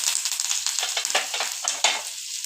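Cumin seeds and curry leaves fry in a spoonful of hot oil in a pan, giving a steady, close crackling sizzle with small popping bursts and no voices.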